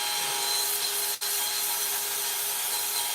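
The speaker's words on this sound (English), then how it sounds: "look how much comes out just in that few seconds of sanding" Continuous abrasive rubbing of sandpaper on a soft wood bowl, close and steady, with a brief pause midway before the sanding carries on.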